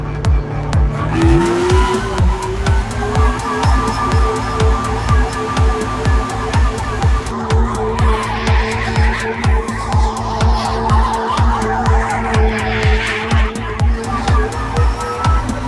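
An autonomous test car drifting around a course, tires squealing and skidding in long wavering screeches over a revving engine with rapid rhythmic pulsing, loud and close for the whole stretch.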